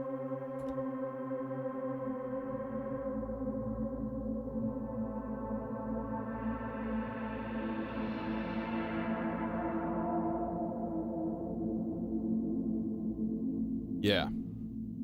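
A Eurorack reverb module fed by a pseudo-random bipolar CV source from a Sloths module produces a sustained, shimmering ambient drone whose upper harmonics swell and fade slowly, ending with a brief sharp burst.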